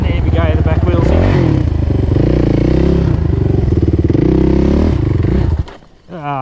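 Suzuki 450 enduro motorcycle revving hard and close while crossing a creek, engine note rising and falling continuously for several seconds before it abruptly stalls and cuts out, followed by a brief quieter moment.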